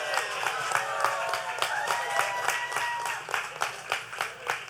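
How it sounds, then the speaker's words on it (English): An audience applauds healthcare workers at a karaoke singing competition finale, a steady wash of many hands clapping with crowd noise throughout, moderately loud and sustained. "Let's give a round of applause for our healthcare workers."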